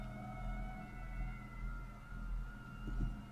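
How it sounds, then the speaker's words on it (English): Sirens in the video game Red Dead Redemption 2 wail steadily at a distance over a low rumbling background, their tones gently rising and falling. "there goes the sirens"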